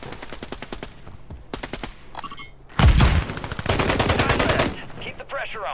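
Bursts of automatic gunfire from a first-person shooter, rapid rattling volleys at the start and a loud heavy burst mid-clip, with brief game sounds between bursts.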